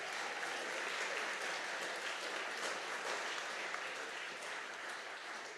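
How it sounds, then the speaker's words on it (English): Audience applause for the catering staff at an entrepreneurship innovation challenge final, a steady wash of many hands clapping together that holds evenly for several seconds, with no talk over it. "can we give a round of applause to the catering staff?"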